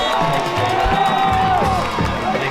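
A high school football crowd at a Naaman vs Lakeview game in Garland ISD roars and cheers loudly on their feet, with whoops and shouts layered in a continuous dense wash.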